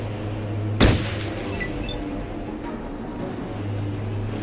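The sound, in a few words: gunshots in the video game Fallout Tactics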